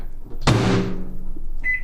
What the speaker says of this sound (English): Okay, so I'm going to pop it in the microwave again.